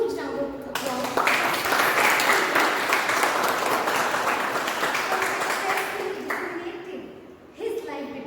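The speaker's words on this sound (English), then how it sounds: "give Toastmaster Mohan a huge round of applause" Steady applause from a Toastmasters meeting audience for Toastmaster Mohan, rising after a brief opening and holding at full strength for several seconds before tapering near the end.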